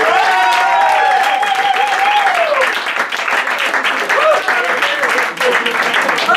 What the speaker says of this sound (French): Ok, on peut les applaudir bien fort.